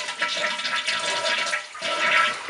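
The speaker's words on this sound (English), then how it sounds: "And so that water went down only about an inch and a half before the flapper valve closed down." A toilet with a loose handle flushes in a short rush of water, with a brief surge near the end as the flapper valve closes, heard close up and alone.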